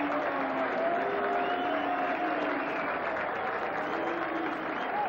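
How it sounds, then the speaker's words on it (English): A rugby crowd applauding and hooting as the Randwick team takes the field against the All Blacks in 1988, a steady dense wash of clapping with scattered whistles and hoots rising above it, no talking. "A few hoots from the crowd as Randwick take the field."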